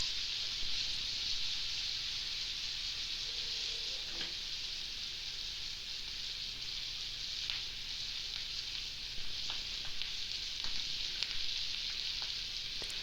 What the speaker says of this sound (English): curry leaves, and green chilies into the frying pan with the Sprat Curry and continue frying until tender